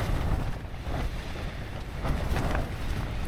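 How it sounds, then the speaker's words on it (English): Strong wind roars steadily around a tent pitched near the summit of Meikle Bin in the Campsie Hills in the early morning, a loud continuous buffeting rush with gusting swells and no voices. "It's rather windy."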